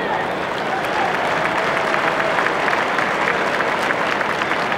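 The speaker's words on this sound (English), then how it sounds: "How about a big round of applause for the Scholar Athlete Award Class of 1994." Sustained audience applause in a large hall or arena, honoring the 1994 Scholar Athlete Award class at a Class B final between East Grand Rapids and St. Clair Shores Lake Shore. The clapping is steady and dense with faint crowd murmur underneath.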